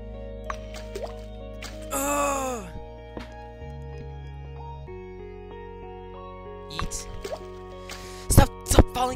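In the video game WonderPutt, a golf ball drops into water with watery drips and plops over steady electronic tones, mixed with game sound effects. A voice groans and sighs along with it.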